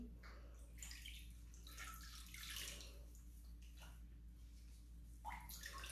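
Water trickling and splashing at a bathroom basin as a face exfoliant is rinsed off, soft intermittent splashes over a low steady hum, faint and with no talking.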